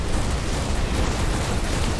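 Continuous roaring flak cannon fire from a spaceship in the game Everspace 2, a steady dense barrage of bursts with no pauses and no talk.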